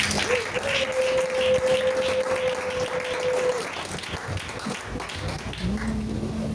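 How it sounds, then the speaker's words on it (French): Church congregation applauding and cheering in acclaim of Jesus during a worship service, a steady wash of clapping with a sustained sung or shouted tone rising over it, voices mixed into the crowd noise. "Acclame encore Jésus."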